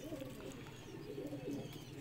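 Shirazi pigeons coo in a breeding setup, a steady run of low, throaty rolling coos close by with soft overlapping calls throughout.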